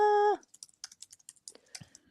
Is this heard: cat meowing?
no